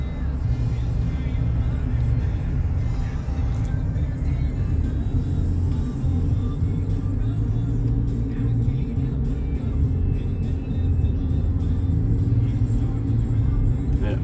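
A 2012 Buick Enclave with 55k miles driving on a road at about 40 mph, a steady, loud low cabin rumble of engine and tire noise that continues evenly throughout.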